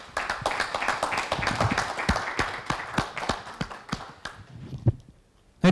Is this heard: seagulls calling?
no